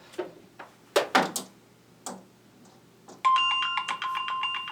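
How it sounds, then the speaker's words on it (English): A phone chimes a bright ringing text-message alert after a few handling clicks and knocks, the tone sustained and repeating near the mic, set off by a marina power-loss monitor. "We just got a notification text that says you've lost power to your marina."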